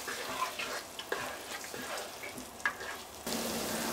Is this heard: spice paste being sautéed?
yes